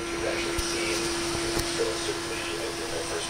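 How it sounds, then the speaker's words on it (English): Base-fed vacuum tube Tesla coil running with internal arcing, giving a steady loud buzzing hum with a strong tonal drone and occasional brief crackling pops throughout. "That's my vacuum tube Tesla coil"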